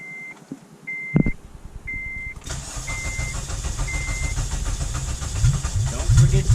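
A boosted Acura TSX primes fuel with a series of short, evenly spaced electronic beeps over near silence, followed by a thump as the engine cranks and catches into a close, rumbling idle that grows louder.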